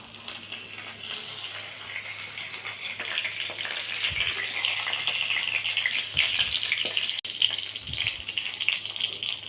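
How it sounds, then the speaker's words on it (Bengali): Whole spices crackle and sizzle in hot oil in a wok, a steady, fairly loud frying hiss with a few soft stirring knocks near the end, no talking. "তেলটা গরম হয়ে গেছে কড়াইতে। প্রথমে দিয়ে দেবো হচ্ছে গোটা মশলাগুলো।"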